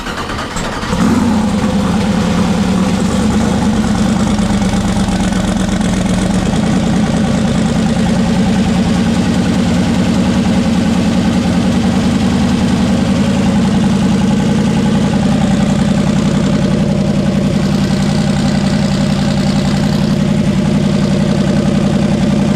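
A twin-turbo LS V8 in an S10 truck cranks and fires, then settles into a loud, steady, throaty idle that runs unbroken for the rest of the stretch, with no talk over it.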